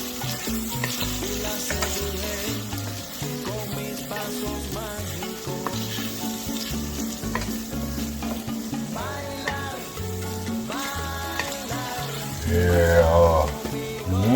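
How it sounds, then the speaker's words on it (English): Hamburger mixture sizzles and fries steadily in a pan while being stirred, a continuous crackle heard under background music, growing louder toward the end. "All right, this has been going good for a little while, so I'm gonna go ahead and add this in here. Give it a nice good stir."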